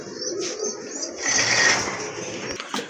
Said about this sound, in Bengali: আরেক জোড়া কবুতর, খুবই চমৎকার কোয়ালিটি ফুল এক জোড়া কবুতর